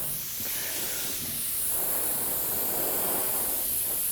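Steady airbrush-style air blower hiss playing over wet candy black and red automotive paint, a continuous broad rushing sound that holds nearly level throughout with no talking.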